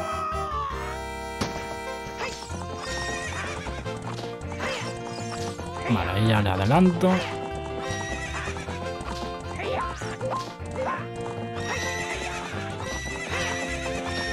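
A horse whinnies and its hooves clip-clop during a horse-race betting game in Zelda: Ocarina of Time, heard over the game's music. Someone speaks briefly over the sounds.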